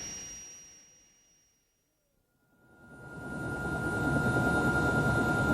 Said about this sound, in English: we really must pop in the helicopter and be on our way